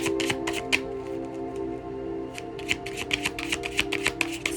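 Tarot cards being shuffled close up during a love and money reading, a run of crisp riffling snaps and papery flutters over a steady low background hum, with no talking.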